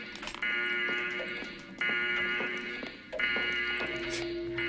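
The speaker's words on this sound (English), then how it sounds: "This is the everything is okay alarm. It will sound every 15 seconds." An alarm in the video game Homebody sounds in loud, repeated electronic beeping bursts, a few pulses about a second apart, with a steady tonal ring between them.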